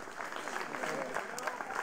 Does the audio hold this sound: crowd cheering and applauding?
yes